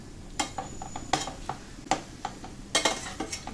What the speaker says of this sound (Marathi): आपण असं हलवत राहायचं